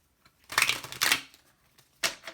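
A tarot deck being shuffled by hand, with two quick papery riffle bursts close up followed by a shorter third burst after a brief pause.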